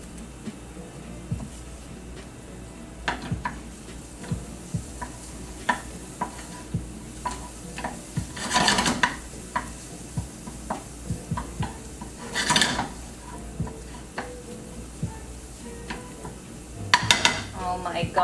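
Shallots cooking in a pan for bun rieu, a soft steady sizzle under frequent clinks and scrapes of a utensil stirring against the pan, with a few louder bursts of clatter, close and fairly quiet.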